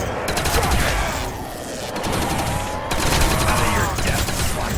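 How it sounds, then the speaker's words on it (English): An MG42 Pack-a-Punch machine gun in a Call of Duty custom zombies map fires in loud, sustained, rapid bursts with a brief lull, up close and dense. "mine sounds like an MG42 Pack-a-Punch."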